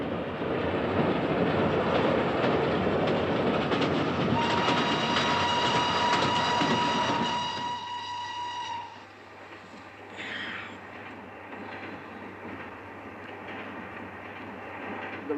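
A train in a 1948 British spy film rumbles loudly toward Venice with a sustained whistle-like tone, then drops to a quieter, steady carriage hum with faint clatter.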